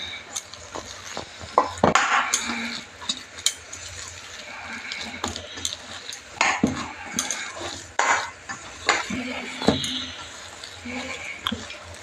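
A spoon scrapes and clinks in a bowl as dhokla batter with baking soda is mixed, a busy series of close knocks, scrapes and wet stirring sounds with some soft background noise.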